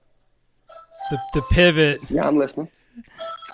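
A doorbell chimes in the background, ringing twice under close conversational speech, fairly faint compared to the voices.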